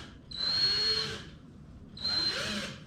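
Two bursts of a power drill whirring at close range while drilling a screw hole in a shop cabinet, each about a second long with a high motor whine, separated by a brief pause.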